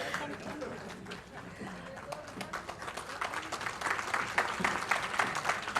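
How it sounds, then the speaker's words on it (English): Spirited applause from the audience at an Indian space industry conclave, rising in density and loudness over several seconds, with some voices mixed in. "it's very nice to see that spirited applause"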